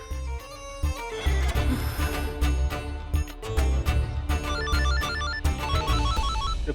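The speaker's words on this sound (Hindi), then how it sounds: "फोन बज रहा है, किसी का उठाओ।" A telephone rings with a repeating electronic tone over busy background music, fairly loud and steady throughout.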